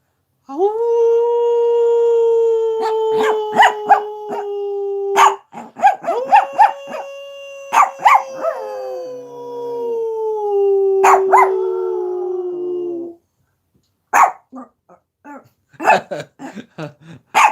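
A rescue dog howls along with a person in long sustained wails, several drawn-out howls broken by short yelps and barks, close and loud, the person's howling voice imitating and joining the dog's.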